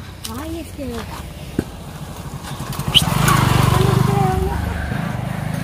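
A motorcycle engine swells up close partway through, a steady rumbling drone that holds for a couple of seconds and then eases slightly while voices talk over it.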